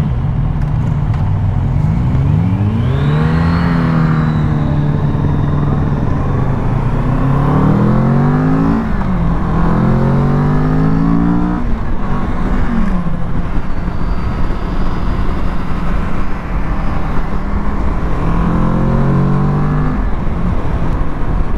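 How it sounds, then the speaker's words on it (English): A 2022 Kawasaki Z650 motorcycle pulls away from a red light and accelerates hard through its torque band, the engine climbing loudly in repeated rising sweeps with gear changes between them, steady and close throughout. "we'll get a feel for the proper acceleration on this bike"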